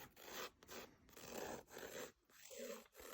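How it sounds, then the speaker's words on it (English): Steady raspy scraping of a pencil on rough watercolor paper, in repeated strokes with brief pauses, close and fairly quiet. "my pencil's making a lot of noise because this paper is really rough"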